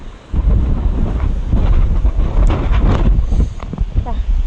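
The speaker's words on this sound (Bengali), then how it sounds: "প্রচণ্ড ঝোড়ো হাওয়া হচ্ছে" Strong stormy wind from Cyclone Remal in Canning, West Bengal, buffets the microphone as a loud, steady low roar with gusting surges. Traces of a voice sit under the wind.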